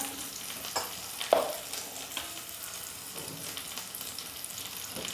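Mixed vegetables fry in a pan as spices are added, a soft steady sizzle with a few light scrapes and one sharper clink near the start, close and fairly quiet with no talking.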